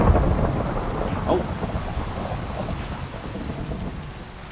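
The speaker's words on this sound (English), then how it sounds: "Where did lightning come from?" Thunder rolls in a Minecraft game world, a loud low rumble with rain hiss that fades slowly, with a brief startled exclamation over the start.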